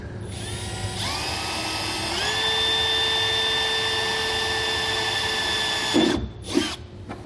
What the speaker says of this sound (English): we're just going to drill a small pilot hole